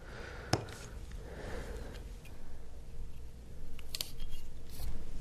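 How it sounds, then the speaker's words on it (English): Snips of a cutter or utility knife severing the connector from a fan's wire, with a sharp click near the start and a few softer cuts later, close by over faint background noise. "you're going to have to cut off this connector from your fan"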